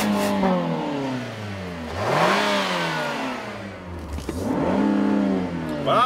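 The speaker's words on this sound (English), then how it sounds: "Wow, Nathan, it lets you actually rev it. Yeah, all the way up to redline." A 2014 Nissan Rogue engine revs up to redline twice from inside the car, each run a rising whirring drone that climbs then drops, moderately loud with no talk over it.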